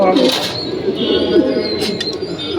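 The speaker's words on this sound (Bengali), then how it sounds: "রাশিয়ান বলগা রেড কালার খুব সুন্দর একটা কবুতর" A red Russian Volga pigeon coos nearby in soft, low, repeated throaty calls, with some faint background noise.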